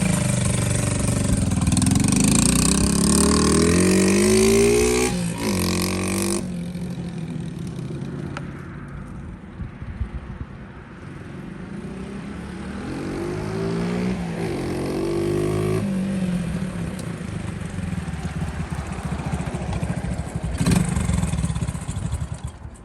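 A Honda XL70 motorcycle runs close by, its small single-cylinder engine revving up and down through several rises, dropping to a quieter idle midway before picking up again.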